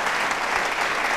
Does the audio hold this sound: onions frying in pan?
no